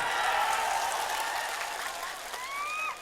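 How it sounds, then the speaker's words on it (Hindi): A crowd claps in a dense, sustained round of applause that slowly fades, with a faint whistle rising near the end. "एक बार आप अपने लिए ताली बजाएं"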